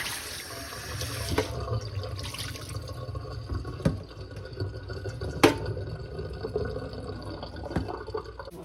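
Tap water runs steadily into a kitchen sink while food is rinsed during home cooking, a continuous close wash with a few louder splashes and clatters, no talking.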